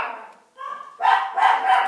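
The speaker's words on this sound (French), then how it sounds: "mes chiens aboient" Household dogs bark in short, bright bursts, a few close together, loud and near with no talking over them.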